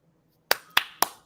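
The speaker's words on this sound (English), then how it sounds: "let's clap it up" Four sharp, evenly spaced claps ring out after a moment of near silence during an interview, crisp and close with brief decays between each.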